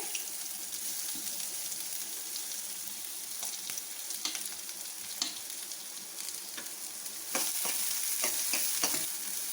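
Chopped onions frying in a pan give a steady crackling sizzle, with scattered clicks and clatter of the utensil. The sizzle grows louder and brighter toward the end, and no one speaks.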